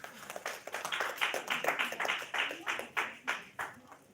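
Audience clapping at an oratory master class, a steady patter of many hands that swells, then settles into separate bursts of claps, fairly close and with no talk over it.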